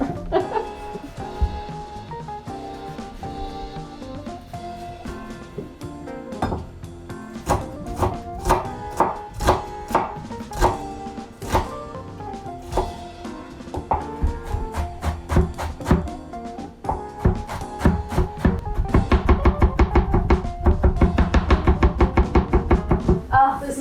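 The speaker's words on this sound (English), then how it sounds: "Got shallot. It also gets finely chopped." A knife finely chops shallot on a board in quick runs of crisp, rhythmic taps that speed into a dense, rapid flurry near the end. A few quiet voices are heard at moments.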